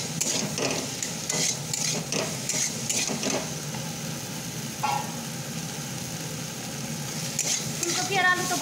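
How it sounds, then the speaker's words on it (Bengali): Cauliflower and potatoes frying in a pan for a vegetarian dish, a steady close sizzle with intermittent stirring scrapes, with no talk over it. "ফুলকপি আর আলু তো ভাজাই ছিল, বেশিক্ষণ ভাজার দরকার নেই"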